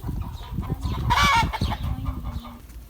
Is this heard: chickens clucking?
yes